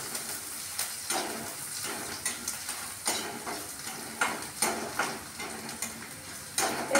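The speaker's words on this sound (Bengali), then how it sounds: "আমি এটা প্রথমে ভাজা ভাজা করে নিচ্ছি।" Onion, garlic and ginger fry in a pan with a steady sizzle, and a utensil stirs and scrapes against the pan at irregular intervals. No one speaks.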